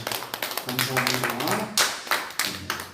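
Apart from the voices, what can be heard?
congregation applauding the worship team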